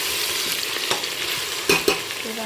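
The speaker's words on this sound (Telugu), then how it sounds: "ఇప్పుడు టమాటా పీసెస్ వేసి ఇవి కూడా కాస్త మెత్తబడేలాగా ఫ్రై చేయాలి." Tomato pieces fry in hot oil for a mutton curry, a loud continuous sizzle with a couple of soft scrapes from a stirring spoon near the end.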